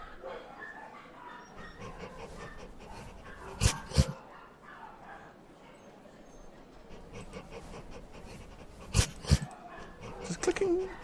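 Dog sounds in a meditation video game, soft breathy panting with a few sharp yips and barks in two clusters, heard alongside background ambience and speech.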